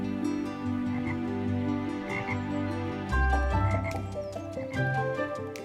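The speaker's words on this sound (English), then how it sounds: "A bullfrog bellowed his morning croak." A bullfrog gives a deep morning croak by a misty river at dawn, with several throaty calls set against steady soft background music.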